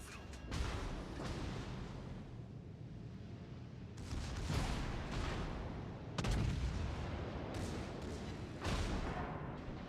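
Naval guns fire in a ship combat game as booming, rumbling salvos arriving in several loud waves, each swelling and decaying over a steady low roar.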